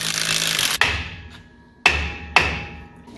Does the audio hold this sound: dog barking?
no